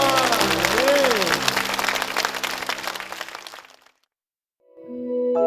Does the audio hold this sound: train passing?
no